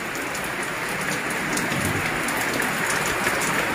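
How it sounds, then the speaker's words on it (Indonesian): Steady rain falls outside a hall, a dense even patter on surfaces heard from indoors, continuous and fairly loud with no talking. "Nah, di luar hujan ya, mungkin agak berisik."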